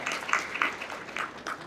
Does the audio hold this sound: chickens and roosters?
no